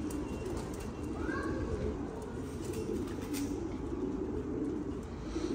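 Low, soft cooing of pigeons rises over a steady background hum, with a few faint chirps mixed in.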